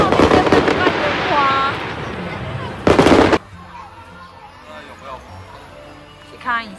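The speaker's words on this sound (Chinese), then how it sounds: "然后后面在放烟花" Fireworks go off outdoors on a Lantern Festival night: dense crackling bursts fill the first seconds, a sharp loud volley hits near the middle, then fainter distant pops and whistles continue under crowd noise, with voices around.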